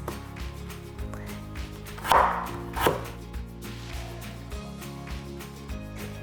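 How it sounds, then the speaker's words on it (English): A knife slicing potatoes into half moons on a board, with a couple of crisp cuts standing out over a steady background of music. "And then I'm gonna slice them into half moons."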